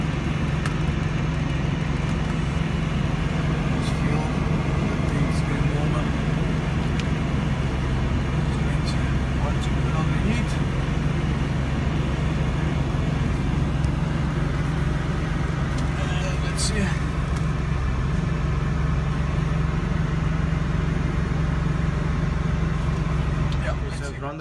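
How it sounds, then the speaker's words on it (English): BMW E36 engine idling during a cooling-system bleed, a steady low hum with a constant drone that runs unbroken throughout. "so the car is idling"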